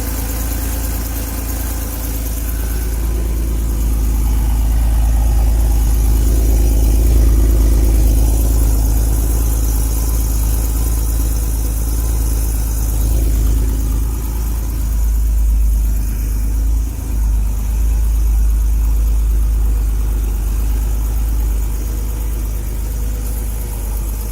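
A 1979 Porsche 930 Turbo engine idles steadily and loudly up close, a low, even rumble with no ticking that holds for the whole stretch with only slight changes.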